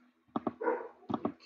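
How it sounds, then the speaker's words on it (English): A dog barks in two quick pairs of sharp woofs separated by a short whine, fairly faint and somewhat distant in an otherwise quiet room. "that's my dog in the background"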